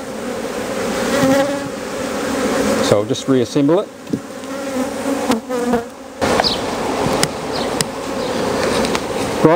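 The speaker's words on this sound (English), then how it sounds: "And I've just discovered that when I put it back in, there are bees underneath." Honey bees buzzing loudly and close around an open hive during reassembly, a dense continuous drone with individual bees zipping past, mixed with handling clunks of hive parts and someone speaking briefly.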